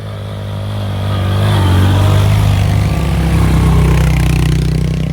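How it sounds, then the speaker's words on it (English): A motorcycle approaches and passes nearby, its engine swelling from a low rumble to a loud, close throaty drone that holds steady with some clatter. "I think I hear a motorcycle coming up here."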